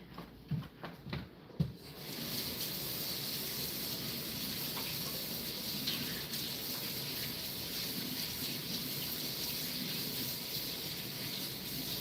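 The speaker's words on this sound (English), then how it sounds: "I'm going to wash my hands" Water running from a tap while hands are washed in a home kitchen, a steady close hiss that follows a few short knocks and rustles at the start.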